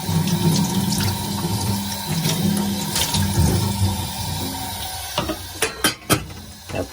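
Tap water runs steadily into a cooking pot for about five seconds, a close, continuous splashing rush, followed by a few sharp clanks of the pot as the flow stops.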